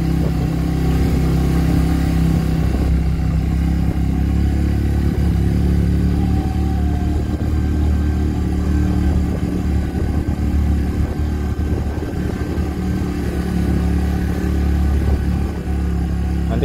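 A motorcycle engine drones steadily as the bike climbs a quiet, foggy mountain road, loud and close, with a constant low rumble and some clatter and no speech.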